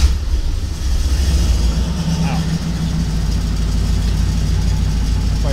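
An LS-swapped Ford Bronco II truck engine that has sat for a while catches and settles into a steady, loud, low idle rumble close to the microphone, with a brief spoken exclamation over it.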